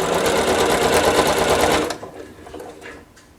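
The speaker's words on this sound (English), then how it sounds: "So I'm going to sew these really quick." An electric sewing machine stitches quilt block patches, a loud, dense steady whir running for about two seconds before stopping, leaving faint handling noise.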